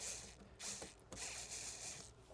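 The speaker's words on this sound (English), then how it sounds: "I'm going to loosen this clamp up as much as I can." A hose clamp on a K&N cold air intake for a Honda Civic is loosened close up, giving a steady run of dry mechanical ratcheting clicks that pause briefly and resume, with no talking.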